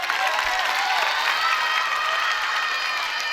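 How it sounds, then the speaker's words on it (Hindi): A crowd at a scout camp in Karachi claps together in a dense, even patter, a bright wash of many hands with faint cheering mixed in, moderately loud and continuous. "तालियां नहीं बजाएंगे इनके लिए?"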